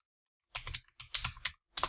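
Quick bursts of keystrokes on a computer keyboard as a terminal command is entered, three short clusters of close, crisp clicks separated by brief gaps.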